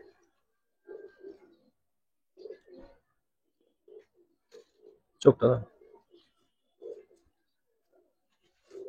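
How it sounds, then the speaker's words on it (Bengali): Giribaz pigeons, khaki and silver, coo softly in a loft in short, scattered bursts, with a person speaking nearby between and over the calls. "দেখেন এই যে কবুতর।"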